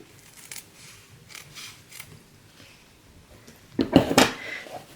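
Scissors snip through a length of wedding scrapbook ribbon at an angle, a brief crisp cut near the end after quiet handling rustles.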